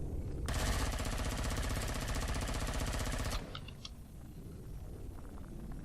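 A spaceship engine in the video game Empyrion Galactic Survival gives a loud, rapid, rattling pulse for about three seconds, then cuts off abruptly, leaving faint ambient hum and a few small clicks.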